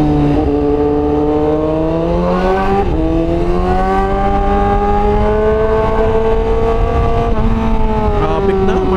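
A 230 HP Honda CBR1000RR-R Fireblade SP roars loudly on a road ride, its engine note climbing in pitch through sustained revs with a brief dip between gears, close and continuous.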